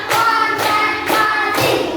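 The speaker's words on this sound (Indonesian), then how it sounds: "tepuk tangan untuk teman kita" A group of schoolchildren claps hands in a counted rhythm during a lesson, four sharp collective claps evenly spaced, loud and close with no talking.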